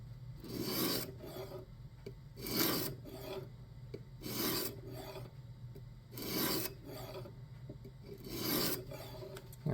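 Knife edge drawn across a sharpening stone on a jig system in steady, repeated rasping strokes, each swipe a loud gritty rub followed by a short pause, in a quiet room.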